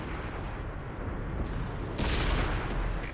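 Booming tank cannon fire amid battle noise in a video game, a dense rumbling din with a sharp, louder blast landing partway through, with no talking.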